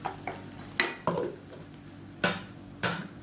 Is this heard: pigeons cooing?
no